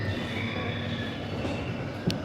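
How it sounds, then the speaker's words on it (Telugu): A train starting to move rumbles along with a steady, dense rolling roar and faint squealing wheel tones, heard from on board at a dinosaur park, with a brief clunk near the end. "అమ్మో ట్రైన్ కదిలింది"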